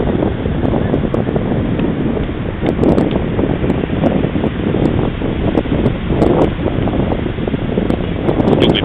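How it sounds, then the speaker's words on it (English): Ocean waves break at Venice Beach under strong gusts of wind buffeting the microphone, a steady, loud broadband roar with swelling surges and no talking. "The waves are kicking."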